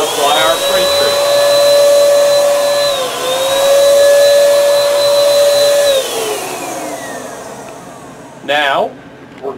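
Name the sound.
pretreat machine spraying pretreatment onto dark cotton garment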